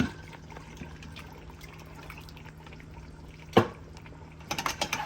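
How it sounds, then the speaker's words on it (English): Water is swirled in a blender to rinse it and then poured onto a strainer while making Ghanaian peanut butter soup, a quiet liquid slosh with faint mechanical clicks and a short louder splash near the end. "I'm gonna go ahead and rinse the blender with water, and then I will pour it onto the strainer."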